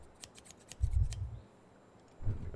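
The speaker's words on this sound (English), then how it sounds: "Cut the trousers." Scissors cut through trousers in a first-aid accident video game, giving two short snipping bursts separated by a pause, close and fairly quiet with no talking.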